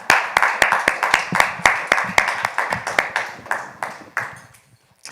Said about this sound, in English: Let's clap him up.